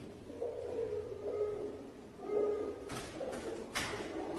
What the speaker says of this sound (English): Is that a pigeon?